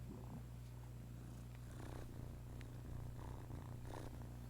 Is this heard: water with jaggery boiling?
no